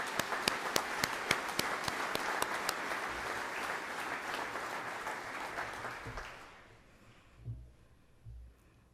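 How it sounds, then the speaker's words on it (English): A graduation ceremony audience gives a sustained round of dense applause for the graduating students, fading out after about six seconds, followed by a few faint thuds. "Let's give these students a well-deserved round of applause."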